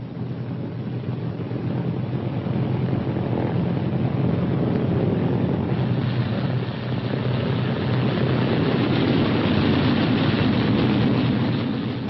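A four-engine propeller aircraft with one engine feathered comes in on a three-engine landing after a bombing strike over northern Italy: a loud, steady, unbroken engine drone with wind rush throughout and no voices.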